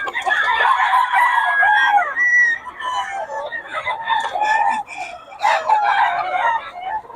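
Several roosters crow and cluck close by in overlapping calls, with someone talking over the birds.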